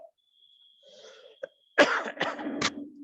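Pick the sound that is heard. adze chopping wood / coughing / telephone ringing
coughing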